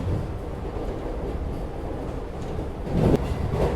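Steady rumble and rolling rail noise heard from inside the Vande Bharat express, the Mysore–Chennai 20608, running fast through Bangalore past Hoodi station, a continuous close drone with a brief louder swell near the end and no talking.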